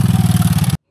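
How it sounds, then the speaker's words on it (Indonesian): A motorbike on a hill path at Bukit Seroja in Wonosobo: a loud, close engine chugging in rapid, even pulses before cutting off abruptly. "Tuh, motor bisa lewat."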